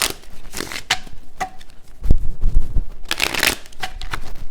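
A deck of cards is shuffled by hand close up, several riffles and bursts of crisp flapping and rustling with short pauses between, heard alone without talk.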